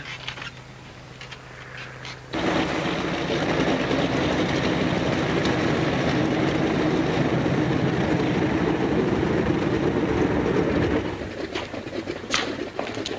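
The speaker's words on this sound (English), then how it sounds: "Say, look, the plane's in." A propeller airplane taxis in after landing, its engine a steady loud droning rumble that starts abruptly and holds, then eases off toward the end.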